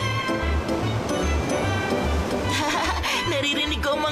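Sea waves on a sandy beach in a Doraemon cartoon: a steady wash of surf under a regular, rhythmic low beat, moderately loud throughout.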